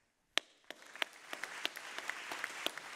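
An audience at a talk event breaks into applause, with distinct individual claps building into a sparse, moderately distant ovation after a moment of quiet.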